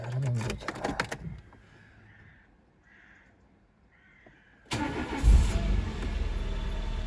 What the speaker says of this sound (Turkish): Arabamızı çalıştık. Biraz ısınsın.